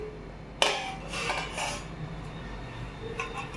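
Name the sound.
covering a cooked dish with a lid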